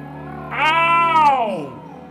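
A house cat gives one long, drawn-out meow up close, rising then falling over about a second, against a faint steady background hum.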